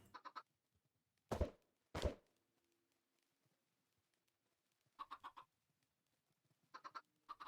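Chickens in the video game Calculator Skies cluck in short bursts, two loud close squawks followed by quieter clustered clucks, with silent gaps between and no talking.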